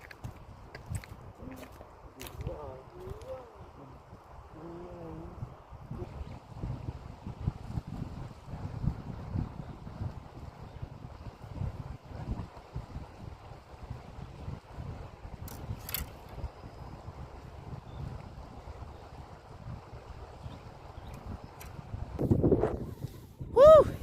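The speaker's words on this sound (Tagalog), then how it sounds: "sobrang lakas po ng hangin" Steady low rumble of strong wind buffeting the microphone, with faint voices and bird-like chirps here and there over the gusts.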